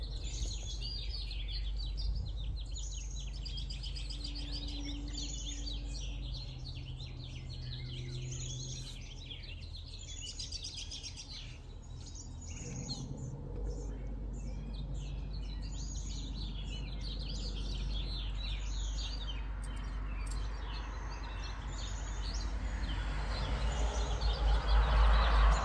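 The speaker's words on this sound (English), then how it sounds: "You hear them birdies?" Many small birds chirp and tweet steadily outdoors, calls overlapping at a moderate distance over a low rumble of background noise that swells toward the end.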